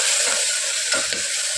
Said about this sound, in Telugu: ఇప్పుడు ఇది బాగా ఆయిల్లో ఫ్రై చేసుకోవాలి